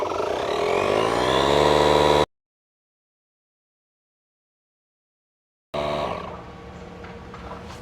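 A DEWALT 20V MAX DCC020I cordless tire inflator pumps up a cold tire with a steady, buzzing motor drone. The sound cuts to silence for a few seconds, then the pumping resumes at a slightly lower level.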